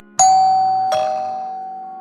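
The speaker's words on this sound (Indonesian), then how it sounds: "Kazu berkata saat mendengar bunyi bel" A cafe door bell rings as a customer enters, two bright chimes about three-quarters of a second apart, each ringing out clearly and decaying slowly with no voices.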